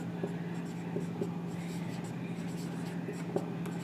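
Pen writing by hand on paper during a class 12 accounts lesson, a steady soft scratching with small taps, heard close under a teacher's ongoing speech.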